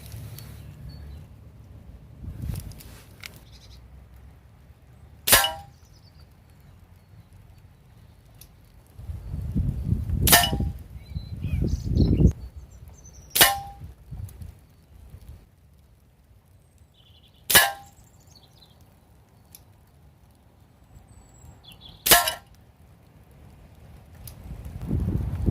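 A GAMO Whisper X Swarm air rifle fires single pellets at a target during pellet testing, giving five sharp, isolated cracks spaced several seconds apart over low wind rumble and faint handling noise.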